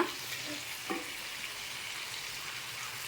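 Prawns frying in a pan with lemon added, gently stirred: a soft, steady sizzle with a faint scrape of the spoon near the start, low and even throughout, no voices.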